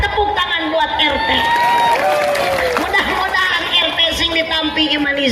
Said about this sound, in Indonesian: Tepuk tangan buat RT.